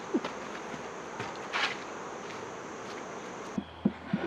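Honeybees fly around a modern beehive, giving a steady, moderately loud buzz with a few close passes, plus occasional light footsteps and clicks near the end.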